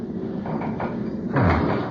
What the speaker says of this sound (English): Door to the pilot's cabin's locked